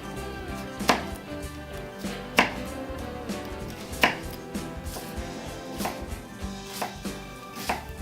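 A knife chopping an onion on a cutting board, with sharp, evenly spaced thuds about once a second and a faint kitchen hum underneath, close and clear with no talking.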